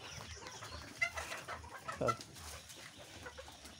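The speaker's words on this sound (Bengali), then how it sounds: "এই যে দেখেন আমাদের 4 মাস বয়সের ফার্মি মুরগিগুলা।" Four-month-old Egyptian Fayoumi chickens on a farm in Taraganj, Rangpur cluck faintly, with a couple of brief calls rising over a soft, steady farmyard background.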